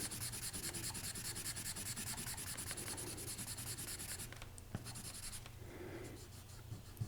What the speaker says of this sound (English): we're going to run the eraser through it.